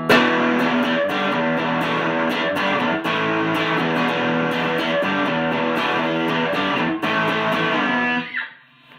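An electric guitar played through a Joyo Boogie Master and a custom-built gain pedal together gives thick, distorted chords with repeated strums and a fuzzy, noisy sustain, loud and steady until it cuts off and decays at the end.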